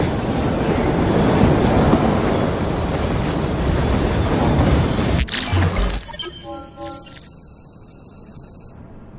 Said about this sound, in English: We fixed up the train for you.